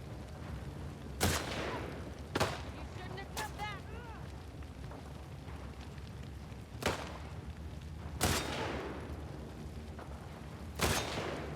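Six sharp, loud gunshots crack at irregular intervals in The Last of Us 2, each followed by a short, echoing decay. Low ambient rumble fills the gaps between shots.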